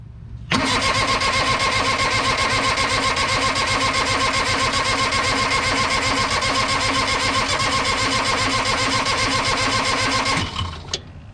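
A New Holland LS125 skid steer engine cranks and catches, running as a loud, steady, rough rumble for about ten seconds before cutting off abruptly.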